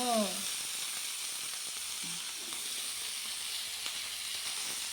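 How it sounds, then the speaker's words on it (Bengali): Brinjal (eggplant) and potatoes frying in oil give a steady, close sizzling hiss throughout, with a brief voice and faint clinks near the start. "এর মধ্যে বেগুনটা দিয়ে দেবো এখন হুম বেগুনটা একটু ভেজে"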